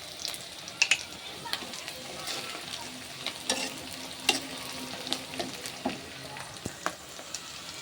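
Chilies and onion fry in hot oil as panch phoron spices go in, a steady close sizzle broken by sharp crackling pops and occasional stirring scrapes, with no talk over it.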